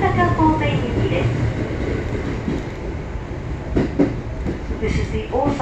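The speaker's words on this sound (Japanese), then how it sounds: "この電車は環状線外回り弁天町西九条大阪方面行きです。" JR West Osaka Loop Line train running between Tennoji and Shin-Imamiya, a steady rumbling interior drone with rhythmic rail clatter beneath a recorded onboard announcement voice.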